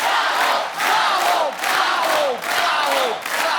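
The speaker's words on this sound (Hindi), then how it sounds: "जोरदार तालियां हो जाए जरा।" A studio audience of a Hindi comedy show claps and cheers in rhythmic surges, with whoops rising over the dense clapping in repeated loud waves.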